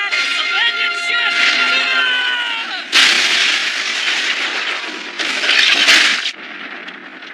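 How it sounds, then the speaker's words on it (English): Anime battle at sea with gunfire and artillery pounding a ship, loud booming volleys and crackling shots in heavy bursts, with shouted voices over the din. "Shut your mouth and fire! They're shooting at us!"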